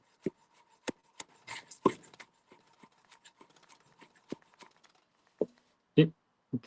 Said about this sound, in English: Finally kind of dicing these here.